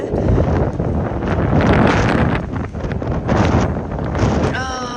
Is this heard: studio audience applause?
no